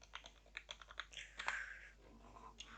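Quick, irregular keystrokes tap on a computer keyboard close by, a burst of light clicks with a brief pause before a few more, faint and without any talk.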